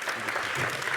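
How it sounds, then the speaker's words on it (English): An audience at a symposium applauds to welcome a speaker, a brief, even wash of clapping heard at moderate distance with no voices. "So please, a warm applause for Maartje Zaal"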